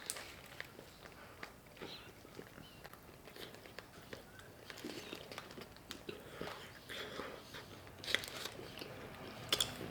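Bacon is bitten and chewed up close at a sandwich café, with soft, faint crunching and wet chewing that turns a little crisper near the end.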